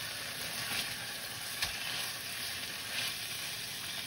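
Moose steaks searing in a hot pan just after being flipped, a steady, even sizzle with a faint brief clink, no voices over it.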